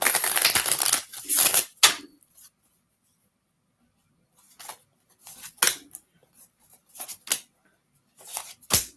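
A deck of oracle cards is shuffled by hand, a short burst of riffling at the start followed by a pause, then scattered light flicks and taps of cards, close and quiet.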